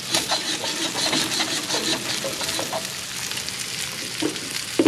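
Eggs frying over easy in a lidded pan make a steady, close, crackling sizzle that carries on evenly throughout, with no one talking.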